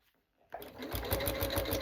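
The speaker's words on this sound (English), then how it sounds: "now it's going to do a lock stitch" A sewing machine stitches a lock stitch while sewing a jelly roll rug; after a brief silence it starts up close and loud, with a steady, rhythmic mechanical whir and no talking.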